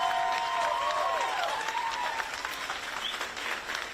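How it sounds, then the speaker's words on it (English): Audience applause at a reproductive justice gathering in Ohio, broad sustained clapping filling the clip while a few tonal voices or cheers rise briefly above it early on. "join me in a round of applause to recognize every black woman who has paved the way to reproductive justice"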